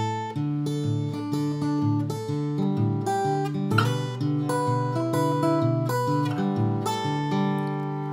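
Fingerpicked bluesy acoustic guitar playing the second line of a tune, with a thumb-driven alternating bass under treble melody notes, steady and clear, solo and close with no voices.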